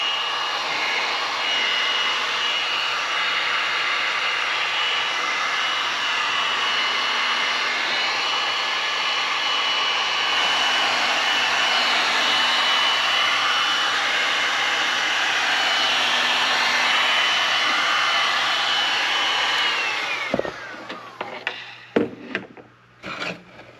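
A heat gun runs at full power, warming an old coating on a part from a 1985 Honda CR250 barn find, a steady loud blowing whine that holds for about twenty seconds and then cuts off, followed by a few clunks.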